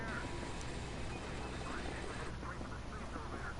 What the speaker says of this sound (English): Angry drone noises.